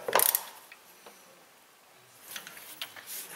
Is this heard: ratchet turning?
yes